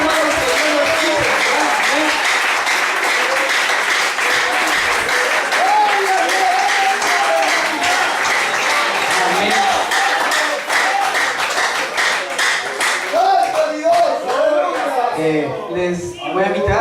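A church congregation in Cleveland bursts into sustained, loud applause and clapping lasting well over ten seconds, with cheering voices mixed in before it thins out toward the end.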